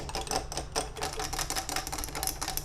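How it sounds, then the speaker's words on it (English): Acrylic nails clicking and clacking rapidly against one another, a close, quiet, continuous flurry of sharp little taps. "Nails are like little extensions of your body in the best way possible. They click and they clack"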